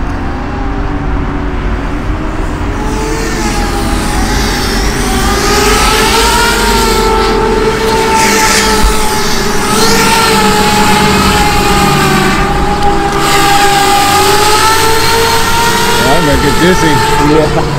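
Heavy Merica 9-inch model aircraft cruising at about 40 mph on light throttle, a sustained whining propeller and motor drone with slowly shifting pitch, loud and steady throughout, with wind noise at the microphone.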